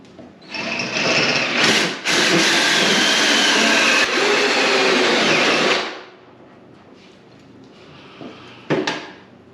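A small power drill with a center drill whines loudly for several seconds, drilling a pilot hole while installing cockpit panels in a race car, pausing once and then running on before stopping, followed by quiet shop noise and a brief clatter.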